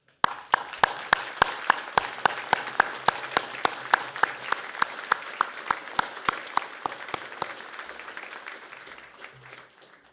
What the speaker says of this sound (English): I think we should clap each other